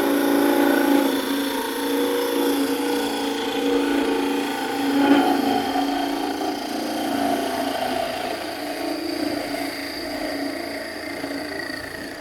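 Parting tool cutting into a spinning wooden gnome ornament on a lathe, a continuous close grinding whir with a steady motor drone and shifting scraping tones throughout.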